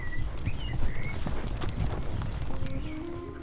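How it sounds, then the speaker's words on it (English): Horses' hooves clip-clop steadily as riders ride away, a rhythmic trotting of several animals close by, with a faint whinny in the mix. "The thieves mounted their horses as if nothing had happened and rode away."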